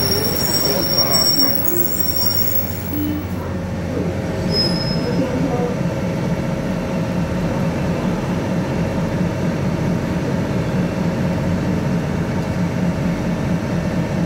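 A nine-car DR2800 diesel multiple unit Tze-Chiang express rolls into Ruifang station, with steady low rumbling and a high wheel squeal at the start that fades into continuous track noise.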